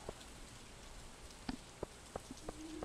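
Rain falling in the video game Stardew Valley, a soft even patter with scattered louder droplet ticks, quiet and continuous.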